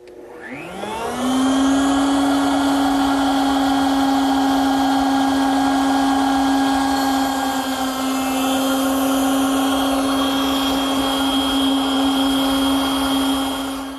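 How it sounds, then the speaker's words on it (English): A router bit cuts into a wooden workpiece for a jewelry box as the piece is lowered over the bit and pushed through, a loud steady high-pitched motor whine spinning up and holding with a rough cutting tone, no talk. "I have to drop the piece over the bit 1/4 inch in front of it and then push it through."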